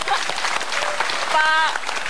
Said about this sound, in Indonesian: Boleh tepuk tangan dong buat Pak Dahlan.